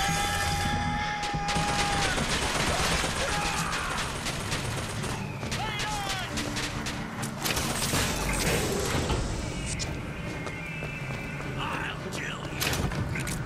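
Rapid bursts of gunfire from Bioshock Infinite crackle through a dense mix of game effects, thumps and crashes, with a voice talking over the fast shooting.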